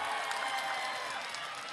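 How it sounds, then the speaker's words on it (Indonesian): Steady, dense clapping from a crowd at a public gathering in Indramayu, sustained and fairly even through the moment, with faint voices mixed underneath. "Iya, semuanya tepuk tangan."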